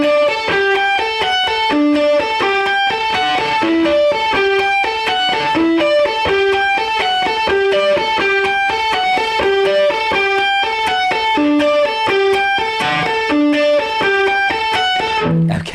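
The main electric guitar riff of a song, a bright, repeating cycle of picked single notes with light distortion, played loud and steady for the whole stretch with no talking.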